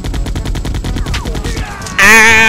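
Rapid gunfire in Resident Evil 2, a fast run of sharp repeated shots that breaks off into a loud, sustained tonal burst of game sound, close and loud.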